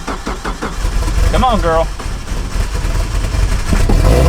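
A vintage RV camper van engine cranks, sputters and catches, then settles into a loud, rough idle close by, with a voice speaking briefly over it.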